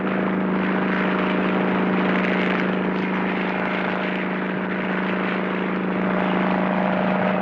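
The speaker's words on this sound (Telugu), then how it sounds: "మీరెప్పుడైనా ఈ విమానం ఎక్కినారా?" A steady, continuous drone of an airplane flying overhead, holding a constant hum throughout with no voices present.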